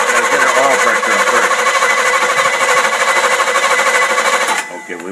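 A car engine fitted with a Rochester two-barrel carburetor cranks close by, its starter churning in a loud, fast, even rhythm for several seconds before cutting off abruptly.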